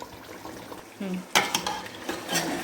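Beef nalli nihari is stirred and fried in a pot, a spoon scraping and clattering against the metal in a few short strokes over a faint sizzle, close and fairly loud.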